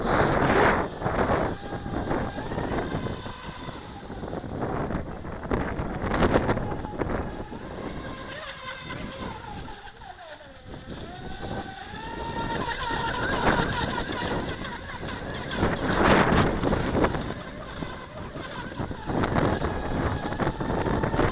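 A Feilun FT011 brushless high-speed RC boat screams across the water, its thin motor whine rising and falling under heavy gusting wind buffeting the microphone outdoors.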